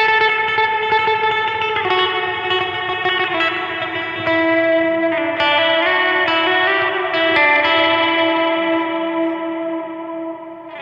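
Sustained guitar chords through a pedalboard's ambient reverb preset, bathed in lush, spacious reverb, notes ringing and blending into a shimmering wash that slowly swells and fades, loud and close.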